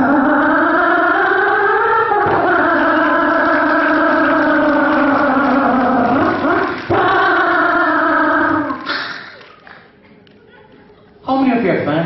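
A voice imitates riding inside a Bangalore auto rickshaw, loudly mimicking its buzzing small engine with wavering pitch over about nine seconds, then falling quiet before the noise resumes briefly at the end.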